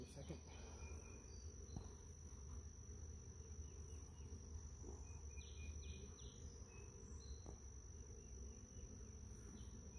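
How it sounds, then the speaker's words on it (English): Honeybees in a hive give off a steady, dense hum that holds for the whole stretch. The sound is close and continuous under faint background noise, with no talk. "I heard their buzzing get a little bit louder when you did that."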